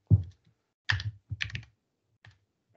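Computer keyboard keys tapped while a shell command is entered in a lecture setting, a few short separate bursts of clicks with silent gaps between, close and fairly crisp.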